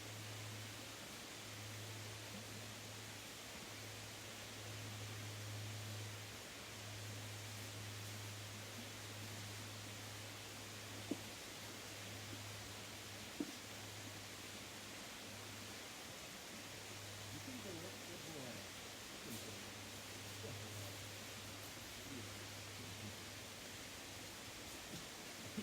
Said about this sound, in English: you're gonna run into the little creek